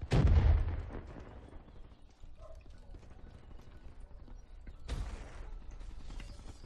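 A grenade explodes in the video game Black Ops 3 with a heavy, close boom that decays into rumbling debris and clatter, followed a few seconds later by a second, softer blast.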